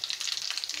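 Cumin seeds spluttering in hot oil, a steady close crackling sizzle with dense rapid pops, heard alone without talk.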